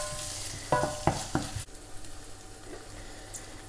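Mushrooms stir-frying in a pan for Singapore noodles, a steady sizzle broken by a few sharp scraping tosses in the first half, then a quieter, even sizzle.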